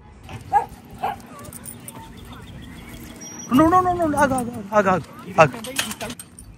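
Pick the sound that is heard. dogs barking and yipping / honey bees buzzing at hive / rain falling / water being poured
dogs barking and yipping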